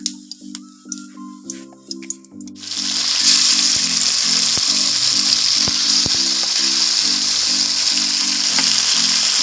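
Hilsa fish drops into hot oil with whole spices for sorshe ilish and erupts into a loud, steady, close sizzle after about two and a half seconds of quiet, while soft background music plays throughout.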